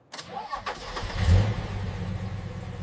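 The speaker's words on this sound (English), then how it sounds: "I start the engine." A car engine cranks with a few quick turns, catches with a swelling roar, then settles into a steady, close-up idle rumble.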